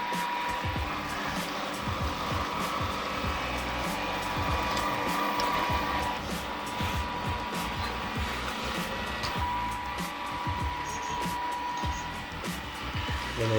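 A Rowenta Explorer 80 robot vacuum cleaner runs steadily on a floor covered in sawdust and wood dust, a continuous whirring motor with irregular clicking and rattling from its brushes and wheels, close and fairly even throughout.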